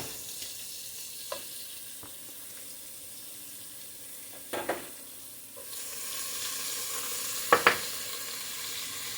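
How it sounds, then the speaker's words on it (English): Eggplant and mixed vegetables sautéing in a pan, giving a steady soft sizzle that grows slightly louder partway through, broken by a few brief clicks and clatters of utensils, with no talking. "let's put the vegetables. Gonna saute everything but the tomatoes."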